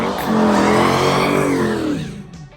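A truck's engine revs hard during a tire burnout, a loud rising roar with a screeching tire edge that swells and then tapers off over a couple of seconds.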